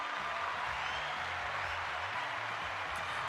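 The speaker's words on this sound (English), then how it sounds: "Let's give Alfredo a round of applause." Steady applause from a group fills the whole stretch, a dense patter of clapping without any voices on top.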